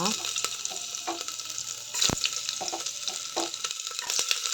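Spices, garlic and ginger frying in hot oil, with whole garam masala, cinnamon, cloves and bay leaf, for a Tulu home dish; a steady close sizzle runs throughout with a few sharp crackles and stirring clicks, no talking.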